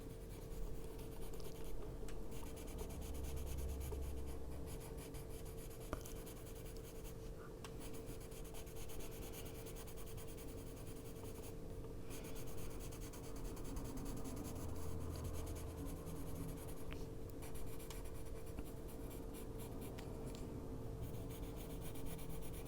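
A colored pencil, a soft blue, rubs steadily across the paper of an adult coloring book page of whimsical fantasy cats, filling small creases with continuous close scratchy strokes and brief pauses.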